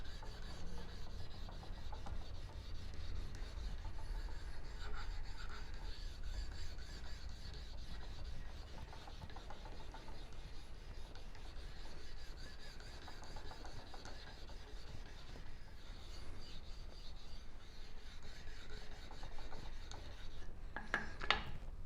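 Abrasive grit rubs steadily across the surface of a Jaguar 5.3-liter V12 cylinder head during an overhaul, producing a continuous low rasping scrub that keeps an even level throughout, close up and with no talk.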